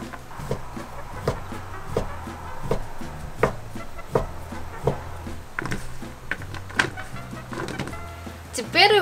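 Rhythmic knife chops strike a cutting board at a steady pace, a dozen or so sharp close knocks over a low background hum.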